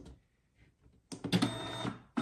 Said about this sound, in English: close the printer up